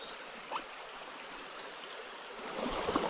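A tiny creek holding small native brook trout flows steadily nearby, a soft continuous trickle and babble with no talking.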